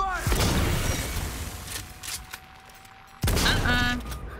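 Gunfire erupts in a firefight in Cyberpunk 2077 Phantom Liberty, with a loud volley of shots and a boom, then a quieter lull before another sharp burst of weapon fire and shattering impacts.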